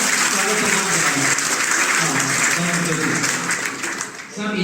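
Loud, sustained applause from an audience at a Hindi poetry recital, with strong clapping that continues for several seconds and fades slightly toward the end, mixed with some crowd voices.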